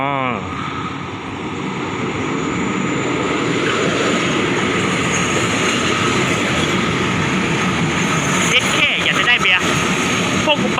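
A local passenger train, number 402, rumbles steadily nearby as it arrives at Chum Saeng, a broad continuous roar with rattling and a brief burst of squealing near the end.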